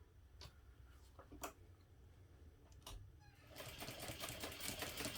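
Sewing machine stitching a backpack panel: a few faint ticks and taps, then the motor starts into a fast, steady, close whirring run.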